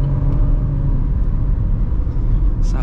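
A Chevrolet Tracker 1.0 Turbo overtaking on a highway fills the cabin with a loud, steady low rumble of engine and road noise, with no distinct rise or pass.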